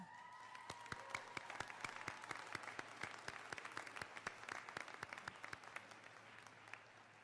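An audience applauding at a 2016 technical college commencement ceremony, a long run of fairly sparse, distinct claps from a crowd, sounding somewhat distant and quiet, thinning toward the end.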